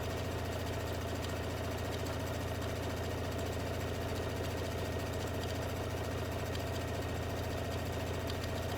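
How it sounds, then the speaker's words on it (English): A sewing machine stitches around the edges of a round zipper pouch, running as a steady, faint mechanical hum with a low vibrating drone that holds unbroken from start to finish. "I'm simply just going to stitch around the outside."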